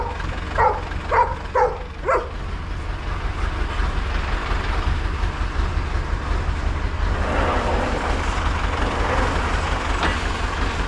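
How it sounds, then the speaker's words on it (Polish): A dog gives a few sharp barks at the start during a night outdoors near a truck with a pump running, followed by a long steady rumble of machinery. "Roki, nie szczekaj."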